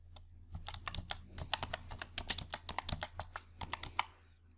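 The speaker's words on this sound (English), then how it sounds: "Type last name in this cell." Rapid typing on a computer keyboard while entering data into an Excel spreadsheet: a steady run of crisp, close key clicks in irregular bursts, no voices.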